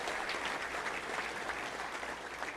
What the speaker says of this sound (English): that's worth a round of applause for